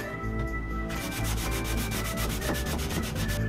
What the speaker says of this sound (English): so the sanding is complete